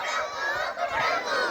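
A voice imitates a rooster crowing in a Hindi children's animal-sounds rhyme for a school readiness activity, one sustained, loud, nasal crow that fills the short stretch.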